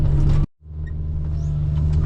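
An excavator fitted with a frost ripper, working to clear tree stumps on a rainy day, rumbles with a steady low engine drone that cuts out abruptly and then builds back up, close and loud.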